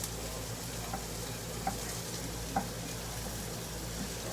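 Vegetables cook in a very hot skillet with a steady, close sizzle that runs throughout, broken by a couple of light taps of a utensil against the pan.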